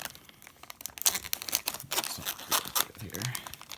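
Dried paper being cut out to make a portal craft, close crinkling and snipping rustles in irregular bursts, with a faint voice briefly in the background.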